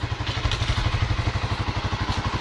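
A 2009 Honda CBR125R single-cylinder motorcycle engine with stock exhaust and the airbox snorkel removed idles close by, a steady, even, deep-toned pulsing throb with no talking.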